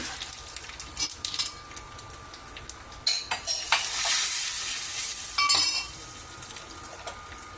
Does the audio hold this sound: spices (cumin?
yes